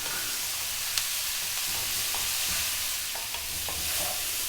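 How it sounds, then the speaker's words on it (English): Broccoli and shrimp stir-fry in a hot pan with a dense, steady sizzle, broken by occasional clinks and scrapes as the food is kept moving. "I'm going to be stir frying this and moving it around all the time"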